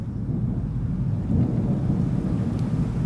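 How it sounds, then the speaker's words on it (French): A violent thunderstorm over Bordeaux gives off a deep, rolling rumble of thunder under a steady hiss of rain. It sounds loud and enveloping from start to finish, and no one speaks. "Il me fait peur cet orage."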